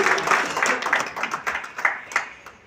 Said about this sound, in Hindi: केशवपुरम जोन के हमारे महामंत्री नवीन जी, उनके लिए जोरदार तालियां